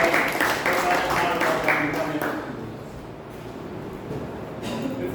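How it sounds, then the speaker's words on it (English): Members at a Toastmasters club meeting clap for the club, a brief burst of many hands that fades within a couple of seconds, followed by quieter room sound and faint talk. "So a big round of applause for the Toastmaster Club."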